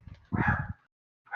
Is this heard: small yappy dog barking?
yes